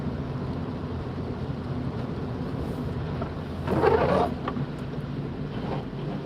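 Water rushes and splashes across a flooded road during a drive between Stalybridge and Wigan in heavy rain, a brief louder surge of spray rising over a steady low rumble of the car.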